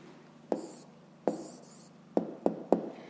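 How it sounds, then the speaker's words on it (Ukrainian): Pen strokes on paper as an answer is written out by hand in a maths exercise, five short scratchy marks close up in an otherwise quiet room. "Записуємо відповідь."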